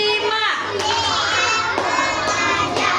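Children in a primary classroom chant together while clapping a rhythmic hand-clap game, with a few sharp claps landing at regular intervals under their loud, sing-song voices.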